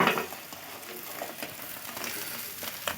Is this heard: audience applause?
no